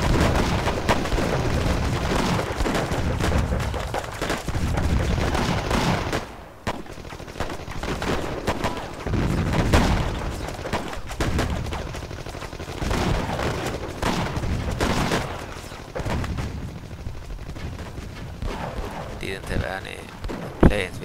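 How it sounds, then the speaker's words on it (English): Artillery and gunfire in the war strategy game War Leaders: Clash of Nations: repeated heavy booms and crackling shots roll on through a long, busy stretch, often under voices. "Seems they had some artillery."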